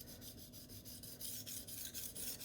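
A knife blade is sharpened freehand on a whetstone in steady back-and-forth strokes, each pass a close, gritty rasping scrape in a regular rhythm, with no talking.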